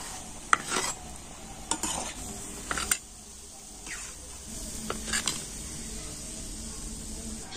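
Wheat-flour pitha cakes sizzle in hot oil with a steady, close frying hiss, broken by a few sharp clinks and scrapes of a utensil against the pan.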